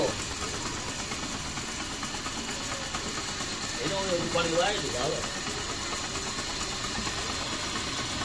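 A repaired household water pump motor runs steadily close by with a mechanical hum and rattle, swelling briefly midway, while people talk over it.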